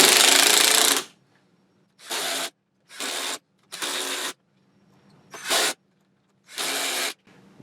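One-inch screws being driven into a woodturning faceplate with a power driver, a series of about six short, loud buzzing whirs separated by brief silences; no talk.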